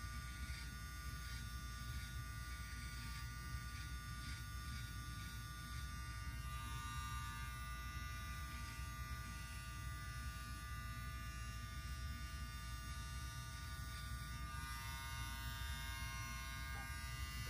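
A VGR electric hair trimmer runs in a steady, even buzz throughout, close and constant with a high whining overtone and no pauses.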